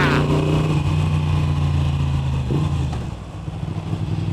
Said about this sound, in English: There's nothing better than riding round and being able to hear the motorbike